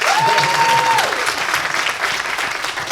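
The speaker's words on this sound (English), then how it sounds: "Clap your hands!" Demo day audience at Techstars Tel Aviv claps hands in a loud, dense, steady burst of applause lasting the whole stretch, with a brief sliding whistle-like tone over the first second.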